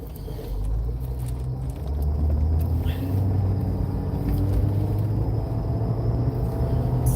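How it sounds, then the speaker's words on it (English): An old car's dashboard rattles while driving, a loud, steady low road rumble and engine drone with faint rattling mixed in throughout. "That rattling is the dashboard, not the engine."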